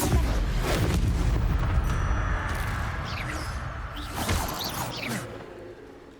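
A Confringo explosion spell goes off in Hogwarts Legacy, a deep booming blast with rumbling debris and whooshing effects that fade over several seconds, followed by a smaller second burst.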